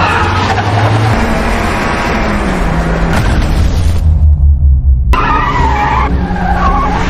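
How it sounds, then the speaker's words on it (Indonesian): Loud film car chase on city streets, with a taxi pursuing: sustained engine roar, tire skids and booming impacts filling the whole stretch, with a brief drop to low rumble in the middle. "Terjadi kejar-kejaran di jalan."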